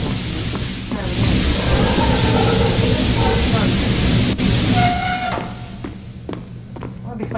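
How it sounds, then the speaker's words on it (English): Steam hisses loudly in a Roblox game, a broad continuous hiss that holds steady, then fades and thins toward the end, with a few faint clicks and tones on top. "Oh, I hear steam."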